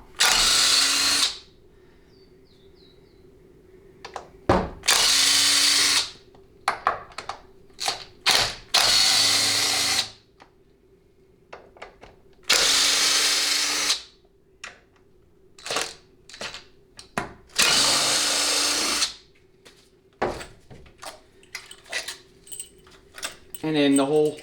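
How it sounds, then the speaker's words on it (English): A cordless power tool spins out starfish bolts from a 6L80 automatic transmission case in repeated loud bursts, with ratcheting clicks, metallic jangling of parts and spoken commentary between runs. "then we can go ahead and start removing the starfish bolts"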